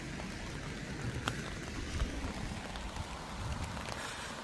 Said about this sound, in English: this rain is getting on